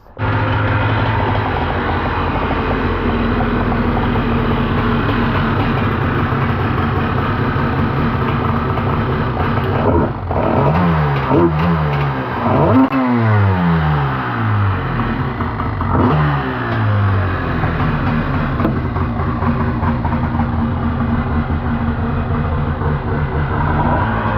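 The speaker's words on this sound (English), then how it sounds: "at least the motor sounds cool." A racing Bullet motorcycle engine runs loud and close, holding a rough steady drone and then revving up and down in several sharp rising and falling bursts midway, with no talk.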